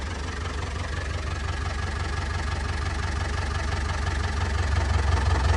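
An old tractor left abandoned in the woods runs with a steady, loud, low diesel rumble and slight knocking, close and continuous with no pauses, and no voices over it.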